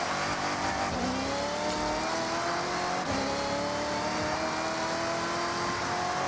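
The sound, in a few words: supercharged car engine in Forza Horizon video game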